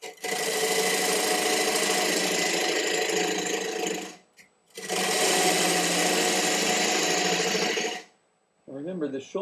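Wood lathe turning a mulberry bowl with a 1/2-inch swept-back bowl gouge, giving two long, loud, steady stretches of scraping, hissing cutting separated by a short pause, with a voice at the very end.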